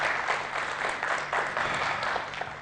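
Audience applause at an Azerbaijani event honouring the Youth and Sports Ministry: a steady, moderately faint wash of clapping that swells slightly in waves and holds for the whole stretch.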